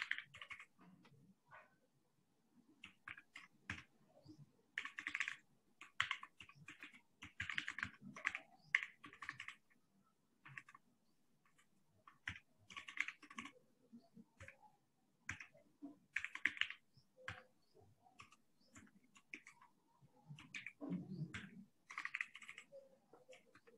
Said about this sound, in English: I wonder, can everyone hear my keyboard